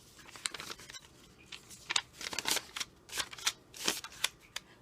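Cash bills being handled and counted out for a budgeting envelope: crisp papery flicks, rustles and crinkles in irregular bursts, close by, with no talking.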